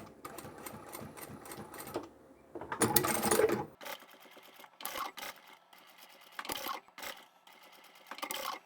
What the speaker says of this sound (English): We're just sewing straight across the center.